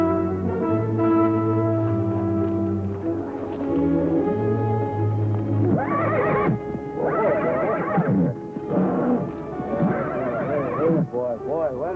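Sustained tonal music plays, then a horse whinnies loudly several times, with hoofbeats clopping underneath.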